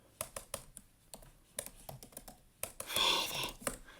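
Clicky bursts of computer-keyboard typing in short irregular runs, with a denser flurry of keystrokes near the end; close and moderately quiet, no talking.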